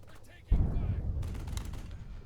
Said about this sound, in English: We can do a lot of damage just shooting here.